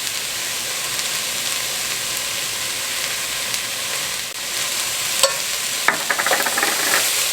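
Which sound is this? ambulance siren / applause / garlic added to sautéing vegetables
garlic added to sautéing vegetables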